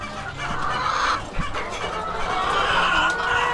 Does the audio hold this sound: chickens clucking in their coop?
yes